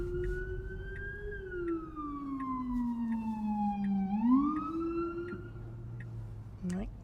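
A police siren wails with slow rising and falling sweeps from two police cars, fairly close, over low traffic rumble in New Jersey.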